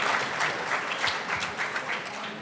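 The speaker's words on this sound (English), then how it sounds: "I never saw in Israel so many people clapping" A large audience at a public debate claps loudly and continuously, dense steady applause filling the room throughout with no voices standing out.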